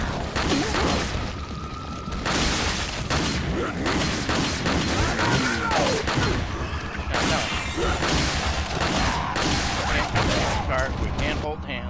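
Pistol shots fired in a Halloween video game, dense game noise with repeated bursts of gunfire and crashes running throughout, loud and continuous, with talk partly mixed in.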